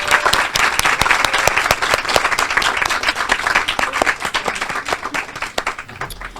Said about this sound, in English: please give them a round of applause for the work that